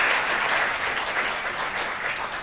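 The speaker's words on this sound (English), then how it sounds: "So give yourself a round of applause." A high school fine arts show audience applauds itself, a dense wash of many hands clapping at even, fairly loud level for the whole stretch, no speech.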